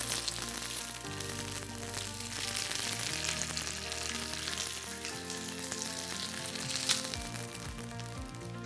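Sesame seeds toast and sizzle steadily in a hot pan, a continuous close crackling hiss with no voices heard.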